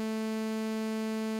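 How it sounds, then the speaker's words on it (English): A sawtooth wave from an analog synthesizer oscillator drones as a steady, unwavering buzzy tone with dense even harmonics, held alone and moderately quiet for the whole stretch. "That's a sawtooth wave."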